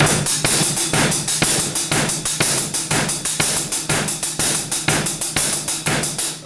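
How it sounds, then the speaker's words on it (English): Drum kit playing paradiddle-diddle sticking over a steady quarter-note kick drum, a dense, loud, continuous run of rapid stick hits with regular low thumps underneath, close and without talk. "So against a quarter note kick drum,"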